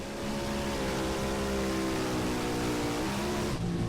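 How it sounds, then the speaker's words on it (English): An NHRA Funny Car drag racing engine at Bristol Dragway in 2024 roars loudly and continuously, its pitch winding up as the tires lose grip and spin, then cutting off abruptly near the end. "And you hear the motor kind of wing up instantly. That is the sign the tires are spinning for Dan Wilkerson."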